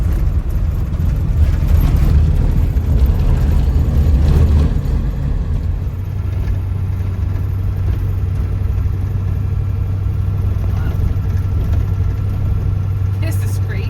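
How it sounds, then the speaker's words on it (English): Vehicle driving on desert sand in New Mexico, a steady close engine drone and rolling rumble throughout, slightly louder in the first few seconds, with a low continuous tone underneath. "Driving in the desert. Driving on sand."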